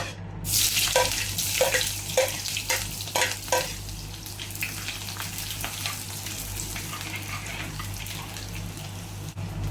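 Chopped shallots sizzle in hot coconut oil with fenugreek seeds, a loud, steady frying hiss, with stirring scrapes that pulse during the first few seconds and then settle into a constant crackle beneath a low kitchen hum.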